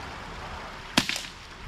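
A single sharp crack from an unsuppressed PCP air rifle, a brief loud report followed by a quick echo or impact, isolated against quiet background.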